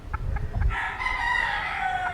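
Bantam hens about six months old in a backyard farm give a few short clucks, then a longer drawn-out call, close by and clear with no talking.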